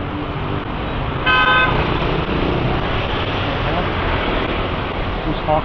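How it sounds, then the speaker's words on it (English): A single short car horn toot sounds in busy Manila street traffic in Uptown BGC, over a constant loud roar of passing vehicles, with voices mixed into the background. "Honking at who?"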